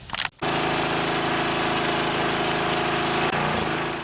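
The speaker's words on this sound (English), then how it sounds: "Okay, so now we're going to pressure wash it in hopes that the degreaser oven cleaner takes everything off of it" A pressure washer running steadily while cleaning degreaser and grime off a Ford 8N tractor, a loud continuous motor drone with hissing spray after a brief start-up, no talk.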